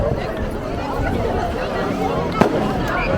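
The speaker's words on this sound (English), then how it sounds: "You still got people shooting their own fireworks" Consumer fireworks set off by people on a beach during a Fourth of July celebration: dense, continuous crackling and popping with one sharper bang, mixed with a crowd murmuring and chattering nearby.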